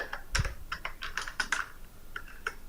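Close computer keyboard typing while C++ code is entered, irregular clusters of crisp key clicks with a few brief pauses, no talking.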